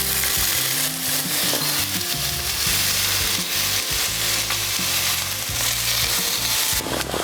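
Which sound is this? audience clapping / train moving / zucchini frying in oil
zucchini frying in oil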